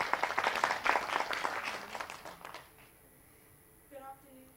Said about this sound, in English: I'll clap that.